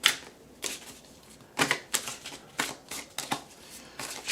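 Tarot cards are shuffled in quick bursts, a series of crisp riffling flutters repeating at an uneven rhythm, close and fairly quiet.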